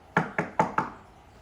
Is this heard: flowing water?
no